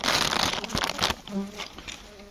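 Honey bees humming inside a hive in cool weather, a dense close buzz that is loudest at the start and thins out as a voice talks over it.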